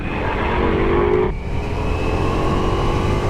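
A Ducati Multistrada V4S motorcycle accelerating on the road, with steady loud engine roar and wind rush heard from the rider's position, its pitch dipping briefly partway through, with no talking.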